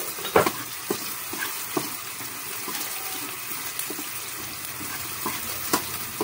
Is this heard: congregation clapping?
no